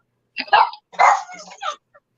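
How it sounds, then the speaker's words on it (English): A Labrador and pit bull mix barks a few times nearby, short loud woofs with a small yip at the end, alone without talk. "the dog started barking"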